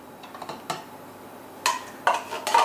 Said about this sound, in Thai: ใช้ช้อนตักให้หมดนะครับ